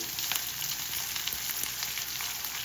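Onions and garlic fry steadily in hot oil, a dense, close, continuous sizzle with faint crackles throughout.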